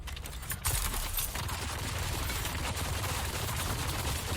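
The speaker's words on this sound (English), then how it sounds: "Look at that hail of gunfire." Gunfire in the Dune Awakening video game, a sustained rattling barrage of shots that keeps going at a steady loud level after a sharp burst at the start, with no talk over it.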